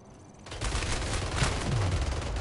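Rapid, dense automatic gunfire rattles steadily through a match in the shooter game Splitgate, loud and continuous for a couple of seconds.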